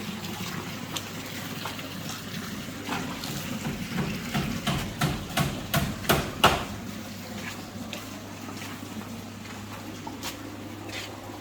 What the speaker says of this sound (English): let's see where the water is flowing to